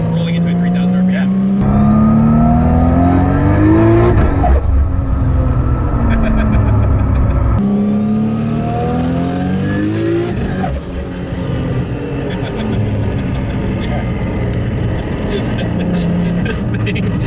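A 900 HP Nissan Skyline GTR with an AWD 2.8L stroker engine and HKS T51R turbo accelerates hard at full throttle on a street, its loud engine revving up through the gears twice. Voices talk over it inside the car.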